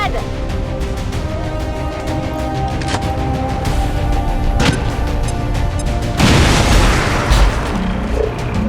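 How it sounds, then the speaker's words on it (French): A grenade goes off in the video game XCOM 2, a loud sharp blast over a steady humming game backdrop, trailing into a brief noisy rumble. "Je leur jette une grenade."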